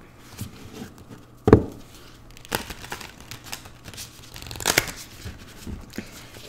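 A tarot card deck is shuffled in quiet bursts of papery riffling and soft slaps, with a sharper snap near the start and another later.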